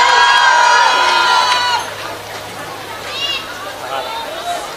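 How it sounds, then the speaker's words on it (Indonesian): A loud crowd at an Indonesian religious talk shouts and cheers, then the noise drops sharply into quieter murmuring and scattered voices. "tepuk tangan."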